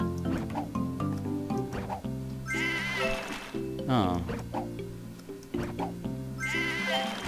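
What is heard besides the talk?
sheep bleating in Divide By Sheep video game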